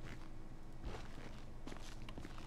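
Footsteps of a character on foot in GTA 5, soft quick steps at an irregular pace, faint and close, over a low game ambience with no talking.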